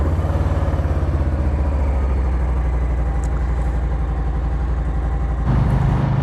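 A Harley-Davidson Street Bob motorcycle engine idles with a steady, loud, low throbbing pulse, and near the end a sharper rise in level suggests a blip of throttle or a start surge; no voices.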